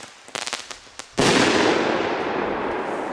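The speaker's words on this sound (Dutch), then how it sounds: "Om te beginnen, Saludraketen. Gaat goed de lucht in." Salute firework rockets are set off outdoors: a few sharp crackling pops come first, then a sudden loud burst with a long, rushing, hissing tail that fades slowly, and no one talks.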